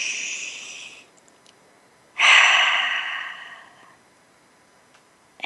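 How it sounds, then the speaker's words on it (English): A deep breath taken during a calm guided relaxation, with a soft breathy stretch at the start, a pause, then a stronger, longer airy exhale that fades out slowly, close and alone. "take a deep breath"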